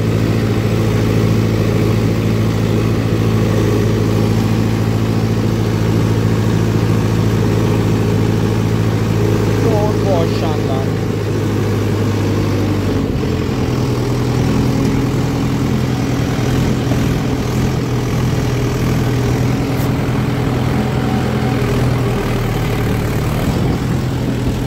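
A Mahindra Yuvo Tech+ 575 tractor engine runs steadily at idle throughout, a loud low diesel drone with constant mechanical hum and no voices.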